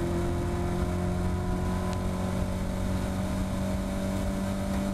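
A Caterham Academy race car engine drones loud and steady at Cadwell Park, its pitch climbing gradually as the car accelerates hard on track, with no voices.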